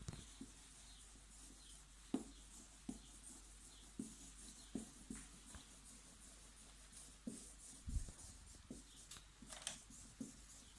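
A wooden pencil sketching light strokes on paper, soft scratchy rubs and small taps in an irregular rhythm, close but very faint.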